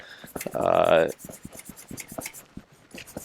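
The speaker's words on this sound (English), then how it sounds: "you hit everything a little bit with something to rough up the surface" An AR-12 shotgun with polymer, aluminum and steel parts has its surface roughed up before Aluma Hyde II paint, giving close, irregular rasping scratches with one louder, buzzing scrape near the start.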